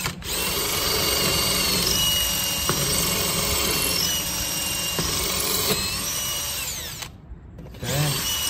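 A power drill bores into a brick wall while running a doorbell camera wire, a loud continuous high whine with brief pitch dips as the bit bites, stopping abruptly near the end before restarting.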